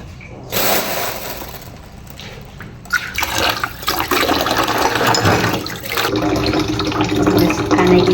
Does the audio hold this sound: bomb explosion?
no